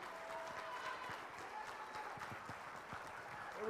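Audience applause for the music educators of Greene County at a county music festival concert, a steady dense wash of many hands clapping throughout, fairly distant and even in level.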